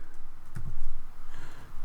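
Rapid keystrokes on a computer keyboard as a formula is typed into Excel, a close, even patter of clicks with a few heavier presses, over a low background hum.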